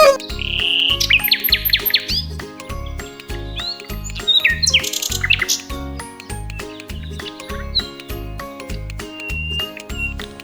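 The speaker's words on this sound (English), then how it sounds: "N for nightingale." A nightingale's bright, warbling chirps and trills rise over a loud, steady, rhythmic backing beat in a children's animal-alphabet song, with bursts of birdsong scattered through the clip.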